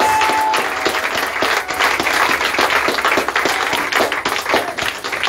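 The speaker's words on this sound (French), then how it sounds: "Clap very hard." A church congregation claps hard together in loud, dense, sustained applause acclaiming the Lord, close and continuous throughout.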